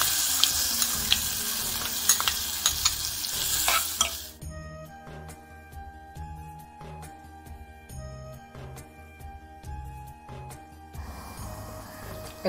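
Leaves being sautéed in a hot pan for a Maharashtrian modak festival thali, a loud bright sizzle at first that drops to a softer sputter with clinking stirring and a low background hum.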